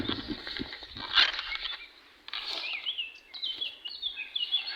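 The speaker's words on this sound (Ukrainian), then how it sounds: "Я думаю, ви чуєте спів цих пташечок, соловів, шпаків." Nightingales and starlings chirp and warble outdoors, a mix of bright trills and whistles at moderate distance, with some low rustling near the start.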